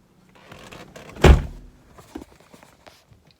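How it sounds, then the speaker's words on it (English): A single heavy thunk as the slightly misaligned driver door of a 1995 Lexus SC400 is slammed shut, loud and close, with faint rustling before and after. "My driver door seems to be a tad bit off, so I really have to slam it to close it."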